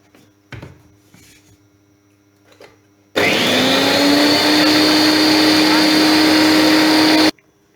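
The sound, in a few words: blender mixing water and flour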